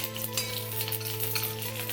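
Oil heats in a pan while making fish morali, a soft, steady sizzle with faint crackles over a low background hum, brief and without talk.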